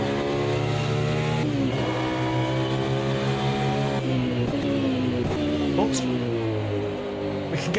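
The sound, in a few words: race car engine in the video game Automobilista 2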